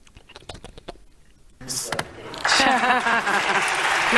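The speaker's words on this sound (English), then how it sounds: "Clap it up. Clap it up." A few scattered sharp claps come first, then a pause before a room of people breaks into steady applause, growing louder and fuller with voices mixed in toward the end.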